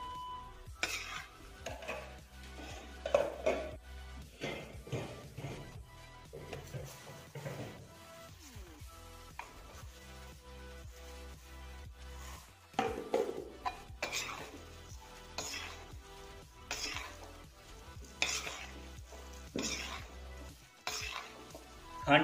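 Golden-brown roasted flour and sugar being stirred in a pan for Punjabi-style pinni: repeated scraping strokes of a spoon against the metal, with soft clinks and faint sizzle, close and fairly quiet, pausing briefly now and then.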